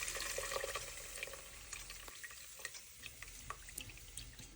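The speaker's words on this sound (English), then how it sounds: "you have this beautifully fried onion garlic mixture that you're going to strain very carefully into this metal mixing bowl" Fried onion and garlic mixture with hot oil strained into a metal mixing bowl: a faint, steady sizzle and crackle with light dripping and occasional small ticks, no voices.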